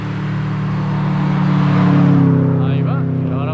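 A historic rally car, the double-zero course car at the Avilés historic rally, approaches with a loud rising engine roar that peaks and then fades as it passes, while someone talks close by.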